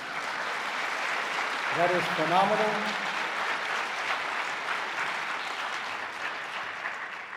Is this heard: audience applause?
yes